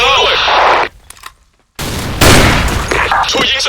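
Dense bursts of rifle gunfire in Counter-Strike, loud and close, dropping to near silence for a moment before heavy shooting and explosion-like noise resume, with voices mixed in.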